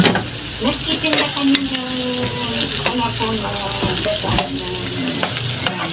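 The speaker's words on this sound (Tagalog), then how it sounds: "Ipa-brown lang po natin ito yung tofu." Tofu sizzles and fries steadily in a pan while being browned for tofu sisig, with occasional stirring scrapes; someone talks over the continuous crackle.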